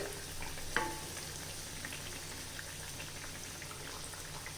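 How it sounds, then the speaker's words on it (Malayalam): Jackfruit seed vadas, flattened into vada shapes, fry in hot oil with a steady soft bubbling sizzle, one brief clatter near the start as a vada is turned over, no voices. "ഒരു സൈഡ് മൂത്തപ്പോൾ ഞാനൊന്ന് മറിച്ചിട്ട് കൊടുത്തിട്ടുണ്ട്. മറ്റേ സൈഡും കൂടെ ഒന്ന് മൂത്ത് വരട്ടെ."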